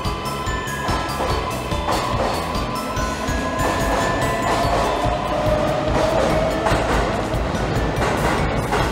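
A Keisei Skyliner limited express electric train running steadily past at Keisei Ueno Station, with a continuous rumble, rhythmic clatter of wheels and a rising motor whine throughout.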